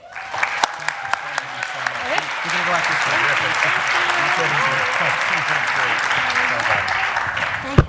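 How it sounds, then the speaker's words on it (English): Sustained applause from an audience at an evening citizenship event, dense steady clapping filling the room with background voices murmuring underneath and a few louder claps standing out at the start and end. "Speaker Melissa Mark Viverito, another round of applause."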